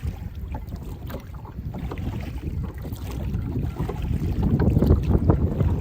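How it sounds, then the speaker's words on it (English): Steady wind buffeting a boat out on the water near Gibraltar, a rough, roaring rumble of gusts and spray that swells louder toward the end. "Wind's hitting us from the other side."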